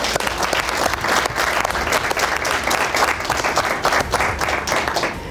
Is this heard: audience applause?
yes